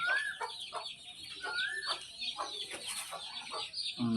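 Hens of a prized breed cluck repeatedly in short rising calls, close and fairly quiet, with scattered softer clucks between them and a brief noise at the end.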